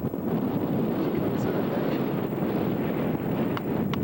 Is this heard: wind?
yes